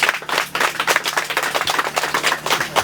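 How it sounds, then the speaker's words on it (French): A small group claps in an uneven, rapid patter of distinct hand strikes, close and fairly loud, running continuously without voices. "On nous applaudit"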